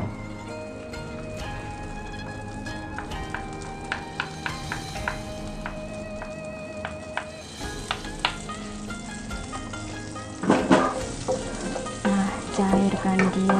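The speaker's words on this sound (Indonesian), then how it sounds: "langsung saja taruh margarin atau blue band bisa ya" A steady, soft sizzle of margarine melting in a hot frying pan, with occasional light clinks and scraping of utensils.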